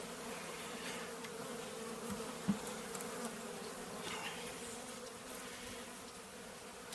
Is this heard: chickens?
no